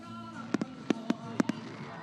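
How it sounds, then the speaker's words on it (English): Fireworks pop at a high school football game at night, several sharp cracks coming in pairs at a distance, with crowd ambience behind them. "Paul, you got the fireworks going off behind us"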